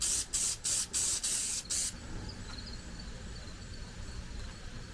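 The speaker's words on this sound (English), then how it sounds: "use some spray glue it to sticker paper" Five short bursts of spray glue hiss from an aerosol can onto sticker paper in quick succession, then fade to a quiet room.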